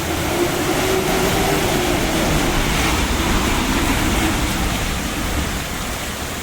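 Heavy afternoon rain pours down steadily in Kumbhavade, Rajapur, in the Konkan, a dense continuous roar of water filling the whole stretch without pause.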